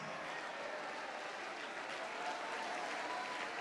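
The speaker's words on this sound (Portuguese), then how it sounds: "E está chegando mais, vamos aplaudir," A church congregation applauds during a worship service, a steady, full wash of many hands clapping together without a break.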